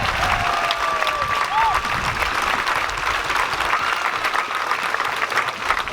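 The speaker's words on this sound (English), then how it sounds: "Big round of applause for Rethink the Link." Sustained audience applause fills an outdoor rally against the Roe 8 Perth Freight Link road project in Perth, a dense steady wash of clapping with a few whistles and cheers throughout, loud and continuous.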